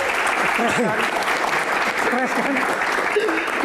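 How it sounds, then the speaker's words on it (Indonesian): An audience at a Q&A session claps steadily at a moderate level while a person talks over the applause throughout. "Kita tepuk tangan untuk Gian"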